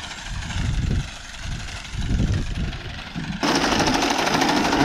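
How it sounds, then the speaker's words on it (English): Horse-drawn hay mower working a field, a loud continuous mechanical chatter of the cutter bar with rhythmic pulses, growing brighter and harsher near the end. "I'm so glad it's mowing good for you tonight."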